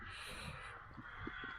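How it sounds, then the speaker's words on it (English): Crows and rooks caw faintly in the distance outdoors, a few scattered calls over a soft steady background hiss. "Listen to the crows and the rooks."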